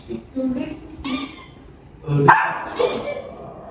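A dog barks and yips in short bursts at night, close by, with excited voices talking and reacting around it.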